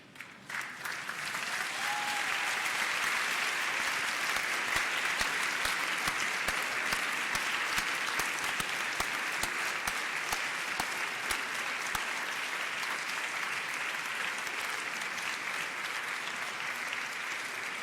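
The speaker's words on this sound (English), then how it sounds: "give them a round of applause" A large audience of family and friends at a medical school white coat ceremony breaks into sustained applause, rising quickly and continuing as a steady, even roar of clapping for well over fifteen seconds.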